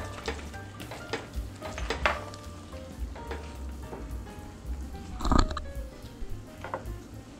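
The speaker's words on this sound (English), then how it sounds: "Just add the seasoning and then stir after you've added all the seasoning." Milk, cream cheese and seasoning being stirred in a pot for a tuna noodle casserole, with soft bubbling, a gentle sizzle and light clinks of a utensil against the pan, one louder knock near the end.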